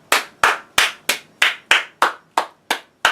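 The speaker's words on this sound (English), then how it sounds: "I'll give you a round of applause" A single person claps hands nine times in a slow, even rhythm, each clap sharp, close and isolated with silence between.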